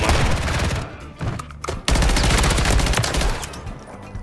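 Bursts of rapid gunfire from a pistol and other weapons in a first-person shooter game, loud and close, with dense repeated shots running nearly throughout and a brief lull in the middle.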